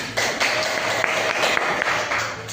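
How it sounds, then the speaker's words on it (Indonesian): A classroom group claps after a class presentation, a brisk burst of many hands clapping, fairly close and continuous. "Beri tepuk tangannya."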